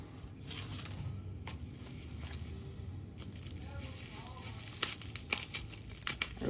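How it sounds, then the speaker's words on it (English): Crinkling and tearing of packaging material at close range as scissors cut a package open, with a few sharper snips and rustles near the end. "I guess I do have to break out the scissors."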